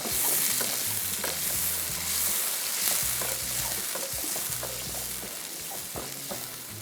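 Kofta curry with water added sizzles and bubbles steadily in a pan while being stirred, with repeated scraping strokes of the spoon over a continuous frying hiss.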